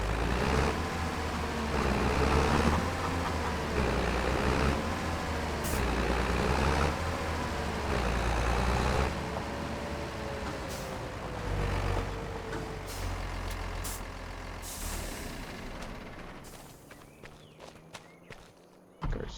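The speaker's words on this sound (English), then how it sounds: "Our skid steer." A skid steer in a farming video game drives along with a steady low engine rumble and shifting whine, heard up close, with a few brief clicks and beeps before the engine fades near the end.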